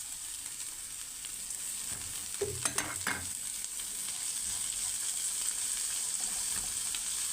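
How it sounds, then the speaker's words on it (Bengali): Shrimp and green chillies frying in a pan for a mixed leafy greens dish, a soft continuous sizzle with a few brief stirring clatters near the middle, fairly quiet. "চিংড়ি মাছ একটু ভেজে নেব।"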